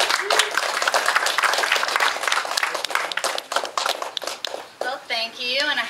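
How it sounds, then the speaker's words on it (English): A symposium audience at a historic estate applauds the speaker Katie, a dense, steady wash of clapping that thins toward the end, with voices mixed in throughout. "Let's all give her a big round of applause."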